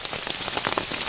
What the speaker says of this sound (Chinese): 现在外面哗哗的在下大雨，希望这个雨早点停